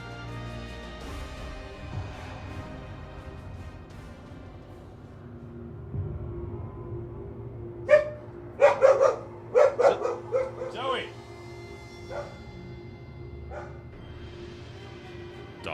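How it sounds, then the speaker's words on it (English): A pet dog barking excitedly indoors during a video game session: a quick burst of several sharp, loud barks midway, set against a low game soundtrack, with someone talking before and after. "Dog just went crazy for no reason."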